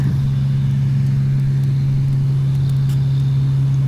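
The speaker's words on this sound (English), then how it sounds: "can hear that street sweeper." A street sweeper drives through a parking lot, a loud, steady low engine drone close by, with faint scattered clicks and road noise over it.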